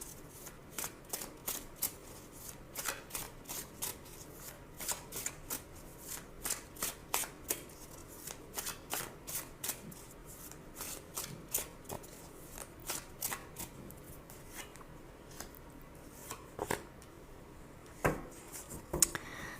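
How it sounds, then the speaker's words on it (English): Tarot cards are shuffled and drawn by hand, a close series of crisp riffling slaps and flicks in uneven bursts, continuing throughout with no talk. "So now I'm going to choose two cards for guidance."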